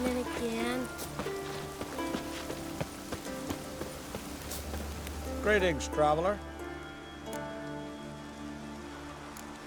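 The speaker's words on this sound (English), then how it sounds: "Oh, raining again." Steady rain falls across the open world of The Witcher 3, a soft continuous hiss under an in-game character's spoken greeting and background music.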